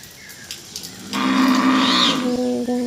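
A cow lows once, loud and close, in a long drawn-out moo on a rainy day, over a soft steady background hiss with a few faint knocks before it.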